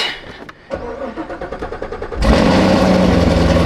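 A 6.2 liter supercharged V8 in a Jeep Trackhawk starts with a rapid cranking burst that catches into a loud, steady idle close by, the idle holding strong to the end.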